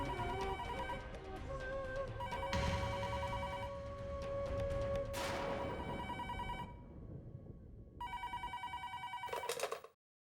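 Telephone ringing while a call is placed to a house, a repeating electronic ring in loud bursts with brief gaps, alone and close, over a faint musical bed.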